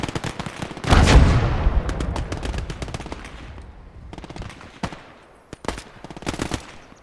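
Tank machine gun fire in a Gates of Hell battle at Isigny, with a loud opening burst followed by sharp scattered rattling volleys, some near and some more distant.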